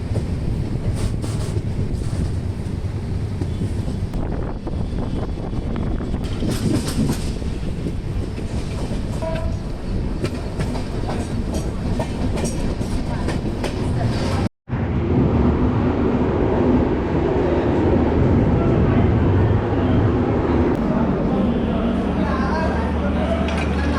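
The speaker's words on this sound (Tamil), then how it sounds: "வண்டி எடுத்துட்டாங்க." Onboard the Thirukkural Express, the train rolls along with a loud, steady rumble and rhythmic clatter of wheels on track, continuous throughout, with a brief dropout midway.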